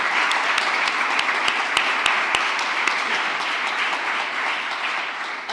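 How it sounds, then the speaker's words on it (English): Sustained applause from a large audience at a vice-presidential swearing-in ceremony, dense steady clapping at even loudness with a few sharper claps standing out, no talk over it. "can we please applaud Secretary Blinken?"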